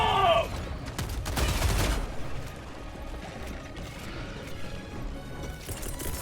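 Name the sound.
Gatling gun firing in Helldivers 2 video game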